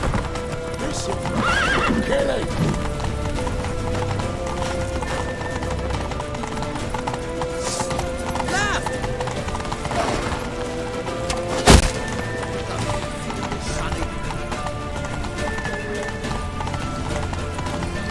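Horse hooves clip-clop at a gallop with repeated neighs and whinnies during a mounted escape in The Witcher 3: Wild Hunt, layered over busy game music and effects, with one sharp crash near the middle.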